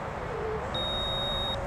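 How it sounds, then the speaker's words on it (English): A FrSky Taranis X-Lite Pro radio transmitter sounds its RSSI warning: one sustained high-pitched electronic beep lasting under a second over a quiet background hiss. "And again, it's beeping."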